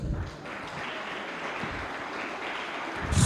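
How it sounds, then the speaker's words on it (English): Applause from an audience at a civic education gathering, a dense, steady patter of clapping held at moderate level for a few seconds, swelling slightly louder at the very end. "I'll give them a round of applause."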